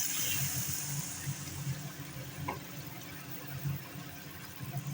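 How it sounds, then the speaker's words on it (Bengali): Water poured into a pan of ridge gourd and potato fish curry, a soft continuous splashing rush that is loudest at the start and then settles into a low, steady wash. "এবার দিয়ে দেবো পরিমাণ মতো জল"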